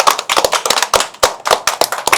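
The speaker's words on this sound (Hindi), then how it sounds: "अरे आप कितनी सुंदर तालियां बजाते हैं।" Children at an art and craft workshop clap together, a close, loud series of sharp, slightly uneven claps in a quick rhythm with short pauses between bursts.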